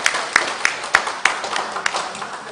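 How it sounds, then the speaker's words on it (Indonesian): An audience at an economics talk on Bank Indonesia strategy gives brief, sparse applause for a speaker, a handful of distinct claps with a few people clapping in a loose rhythm. "Tepuk tangan dulu buat Bu Pili."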